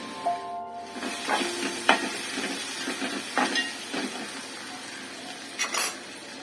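Chopped onion frying in a pan until reddish, a soft continuous sizzle with occasional scraping stirs and light clinks of utensil on metal.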